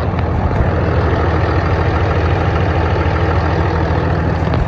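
A truck engine idles close by with a loud, continuous low rumble and steady mechanical drone, unchanging for nearly five seconds with no talking.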